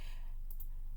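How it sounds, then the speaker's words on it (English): A single mouse click on the OK button in Microsoft Word while a fillable form is set up, heard as one soft, close click, or a quick pair, over a quiet room with no talking. "go ahead and click on the OK button"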